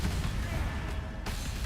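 Explosions in the action RPG Path of Exile, a dense, continuous rumble of overlapping blasts and booms filling the whole moment, loud and busy with no clear gaps.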